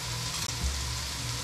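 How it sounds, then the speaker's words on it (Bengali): Ground turmeric, dried chili, coriander and cumin powders go into hot oil in a frying pan, giving a steady, close sizzling hiss. "এখন আমি এতে সব মশলার গুঁড়াগুলো দিয়ে দিচ্ছি।"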